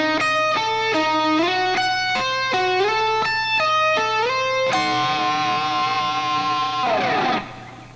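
Slow electric guitar riff, played clean of talk: a run of bright, bending notes with pitch-wobbling whammy bar dips, ending in a sustained ringing chord that swells with feedback and cuts off.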